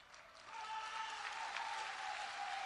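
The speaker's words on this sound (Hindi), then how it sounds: "ये देखो महिलाएं ताली बजा रही हैं।" Women clapping at a political rally, a steady sustained patter of applause from a crowd that holds evenly throughout, heard at moderate distance with no talking.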